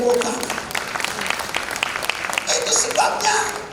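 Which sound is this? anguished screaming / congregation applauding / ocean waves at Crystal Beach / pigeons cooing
congregation applauding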